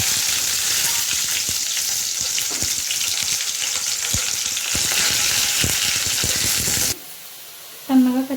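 Curry leaves and onions fry in a pan with a loud, steady sizzle and hiss, plus occasional stirring clicks, close up; the sizzle drops away near the end.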